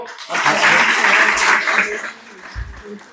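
Loud, sustained clapping from an audience at a college award ceremony, a dense wash of applause that swells and then tapers off, with a few low thumps near the end.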